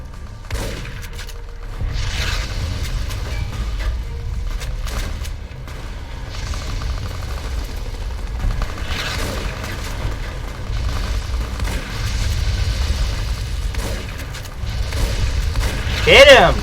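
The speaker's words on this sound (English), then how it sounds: "Damn explosions." Repeated booming blasts and gunfire from a Fallout: New Vegas gunfight, a shotgun loaded with slugs among them, rumble steadily through the scene, with one louder burst near the end.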